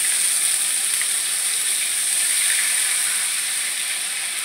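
Onion paste frying in hot oil gives a steady, loud, close sizzle that holds evenly throughout, with no talking.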